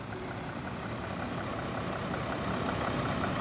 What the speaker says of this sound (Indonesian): ini untuk pertama kali bus ILS 220 Reborn keluar dari gudang ya